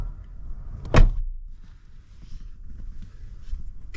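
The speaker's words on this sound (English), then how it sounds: "We'll do the door close test on this side and see what that looks like." A Lexus GX460 door swings shut with one solid, close thud near the start, followed by quiet rustling and low handling noise.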